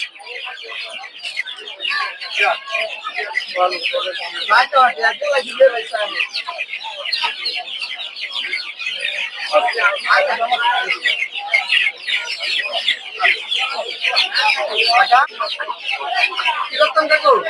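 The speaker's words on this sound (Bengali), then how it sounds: "এগুলো সব হচ্ছে টাইগার মুরগির বাচ্চা" Tiger chicken chicks and other fowl at a rural poultry market cheep, cluck and chirp continuously and close by, while someone talks over the birds throughout.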